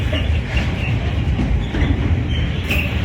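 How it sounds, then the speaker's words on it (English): A freight train passes through Stratford station, its steady rumble and clatter of wagons filling the scene, loud and continuous, with a brief squeal near the end and no talk. "We're near the end of this freight train."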